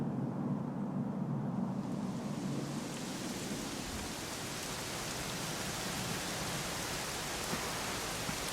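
Steady rain pours down in the video game Dragon Quest XI S, a continuous hiss of falling water, with a faint low rumble underneath.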